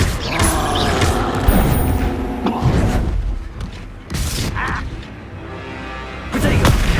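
Bombarda explosion spells in Hogwarts Legacy combat go off as several heavy booms and crashing blasts in quick succession, loud and close, over continuous battle clamor.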